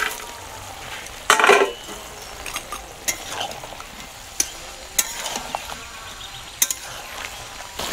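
Fried lentil dumplings are stirred into shukto in a pan over a low bubbling sizzle, with scattered sharp clacks and scrapes of a spoon, one louder knock early on, and no voices.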